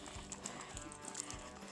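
A dog gives low, pig-like grunts at an outdoor camp spot, a few short rough pulses spaced about half a second apart over a steady humming background.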